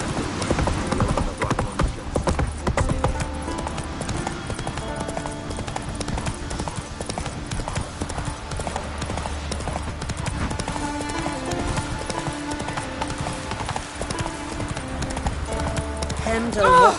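Hooves clip-clop steadily as the horse Roach trots in the Witcher 3 video game on PS5, a rhythmic close clatter running under a talking voice and game audio.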